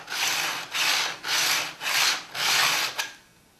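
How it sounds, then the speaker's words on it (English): A card scraper rasps across the wood in five quick, even strokes close up, each a bright scraping swish as the burr is taken off, followed by a brief final tap. "take a couple passes here, nothing major, just to get rid of the burr."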